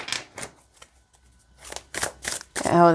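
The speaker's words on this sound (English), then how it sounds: "Oh, they shuffle just fine this way." Tarot cards from the Darkness Piercer deck being shuffled by hand, a series of short crisp riffling bursts with pauses between, close and fairly loud, ending as a voice starts to speak.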